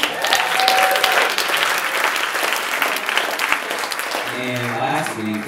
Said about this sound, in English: so just kind of give them all a round of applause for us